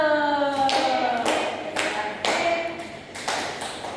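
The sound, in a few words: class clapping hands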